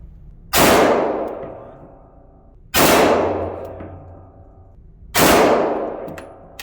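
Three loud, sharp gunshots from a Smith & Wesson M&P 9mm M2.0 Performance Center pistol at a shooting range, spaced about two seconds apart, each followed by a ringing decay.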